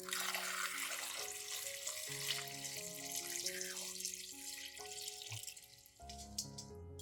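Clean water runs steadily from a tap into a basin holding lychee peels with salt and baking soda, a continuous splashing hiss with small drips, soft and close.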